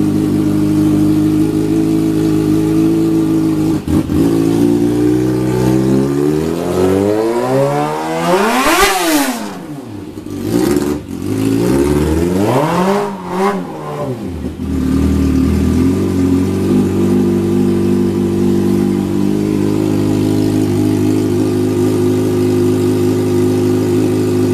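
A wrecked 2009 Kawasaki ZX6R sport bike with 3,528 miles cranks to life, then revs hard through several rising and falling sweeps before settling into a steady, loud idle close by.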